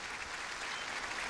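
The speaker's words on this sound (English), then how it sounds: "stadium erupts in applause for Eddie Cohen, who is now being carted off" Steady applause from a football stadium crowd at a college game between Western Carolina and Georgia Southern, a dense, even roar of clapping held at a distance throughout.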